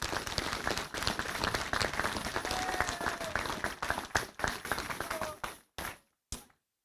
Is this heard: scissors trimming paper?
no